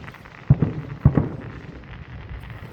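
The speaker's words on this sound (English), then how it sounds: "Firework." Two sharp firework bangs go off about half a second apart at moderate distance, each followed by a brief crackling tail, then quiet outdoor background.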